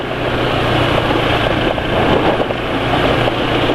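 A motorcycle engine runs steadily just after an oil change with Fastron 20W50, a continuous close, loud, rough hum with faint ticking and no talking.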